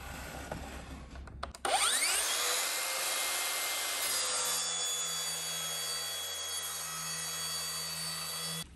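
A track saw starts with a sharp whine and cuts a straight line through plywood trim, the motor and blade holding a steady, loud buzzing whir for several seconds before winding down at the end.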